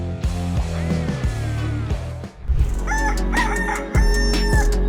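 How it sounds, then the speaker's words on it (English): A loud rooster crows close by, with repeated crowing calls over steady background noise. "If a rooster wakes everyone with its crowing"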